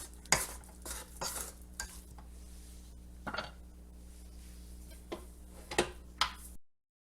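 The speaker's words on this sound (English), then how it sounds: "we're going to have to scrape the bottom to make sure the honey is getting mixed in there" A spoon stirs and scrapes a thick honey mixture in a bowl, giving sharp intermittent clinks and scrapes against a quiet background, up close, before the sound cuts off.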